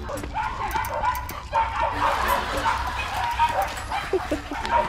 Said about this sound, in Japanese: ワンワンって聞こえる。